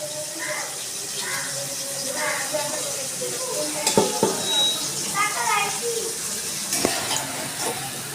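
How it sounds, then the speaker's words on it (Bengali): Pieces of bitter gourd fry in oil with a steady, moderate sizzle, punctuated by a few sharp clinks of a utensil against the pan, while a voice talks in the background. "উচ্ছেগুলোকেও আমি ভালো করে একটু ভেজে নেব"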